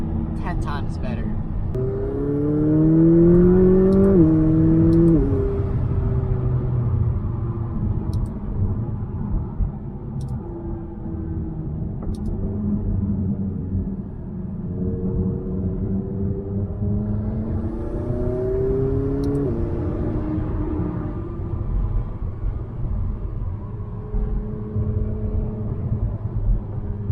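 A 2019 McLaren 570S Spider's 3.8-liter twin-turbo engine heard from inside while driving, a deep droning rumble that rises in pitch as it accelerates through the gears, with a voice talking over it intermittently.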